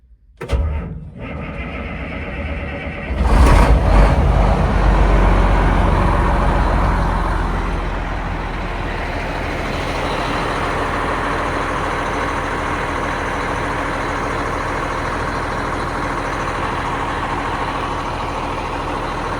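A diesel ranch machine with a front bucket cranks over after its glow plugs heat, fires with a loud burst, then settles into a steady, rumbling idle that runs on alone.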